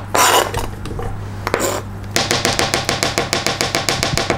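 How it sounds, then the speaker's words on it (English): Brownie mix is sifted in a home kitchen: a brief rustle of scraping, then a steady run of quick, close tapping and shaking from the sifter, about five taps a second, with no talking. "I'll sift it so this way no little metal bits go in there."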